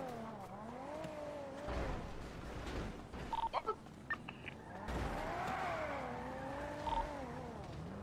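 Car driven in the video game GTA roleplay, an engine tone rising and falling as it revs, with a few sharp clicks and knocks midway and a second swell of revving near the end.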